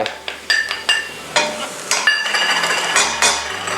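Big chili peppers drop into a pan with squid and get stir-fried, giving a steady sizzle broken by repeated sharp clinks and scrapes of a utensil against the pan, close and fairly loud.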